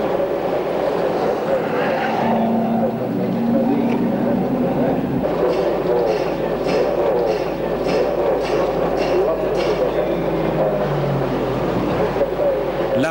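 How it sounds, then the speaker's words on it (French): Cunningham race car number 2 at the 1954 race, engine drone and passing traffic in a noisy pit lane, a steady mechanical roar with a rising tone late on, as a commentator talks over it. "C'est au tour de Spare de rentrer au stand avec la Cunningham numéro 2"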